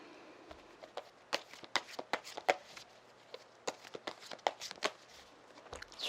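Tarot cards are shuffled and tapped in a quick, irregular run of soft crisp slaps and flicks, close and fairly quiet, with no talk.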